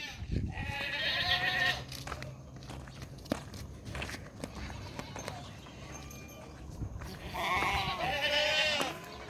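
Goats bleating in a pen at feeding time, a few loud, wavering calls near the start and end, over footsteps, shuffling and scattered voices.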